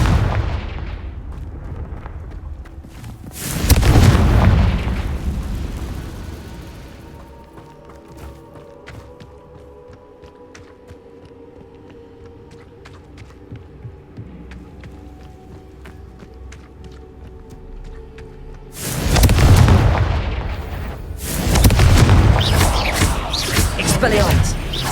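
Confringo fire-spell blasts in the Hogwarts Legacy video game: a loud booming explosion burst, a quieter stretch of crackling and rumbling effects, then two more heavy, roaring blasts near the end.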